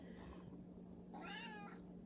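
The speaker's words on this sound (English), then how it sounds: "He's an old kitty cat." An old cat gives a single drawn-out meow, faint and fairly close, over a quiet steady room hum.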